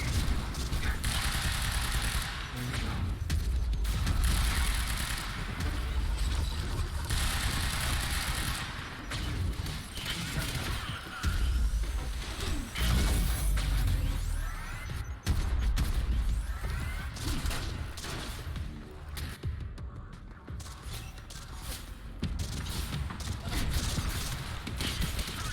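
Gunfire in the video game Quantum Break against hazmat-suited enemies, sustained bursts and rapid mechanical shots running loud through most of the stretch, mixed with game effects and occasional talk.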